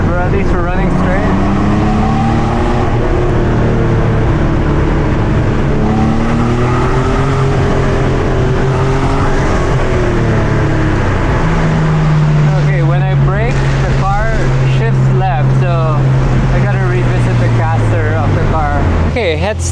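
A Ferrari engine runs steadily under continuous talking, its pitch rising and settling as the car drives along a road.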